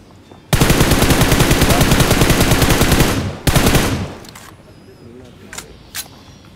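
Gunfire in the PUBG Mobile battle royale game, a loud close burst of rapid automatic fire lasting about three seconds, then a short second burst, followed by a few faint distant shots.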